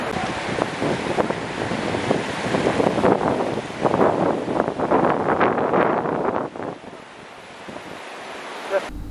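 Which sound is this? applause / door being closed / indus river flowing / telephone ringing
indus river flowing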